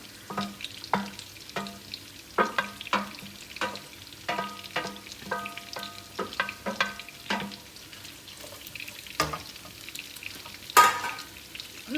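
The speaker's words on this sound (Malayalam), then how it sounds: "ഇതിലേക്ക് നമ്മൾ കട്ട് ചെയ്ത് വെച്ചിട്ടുള്ള സവാള ഇട്ട് കൊടുക്കാം" Chopped onions fried in a pan for dum biryani, sizzling under a run of irregular stirring scrapes and clacks, close and fairly quiet, with one sharper knock near the end.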